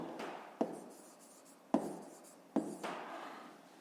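Pen writing numbers by hand on paper, soft scratchy strokes with three sharp taps as digits are marked, close and quiet with no talk.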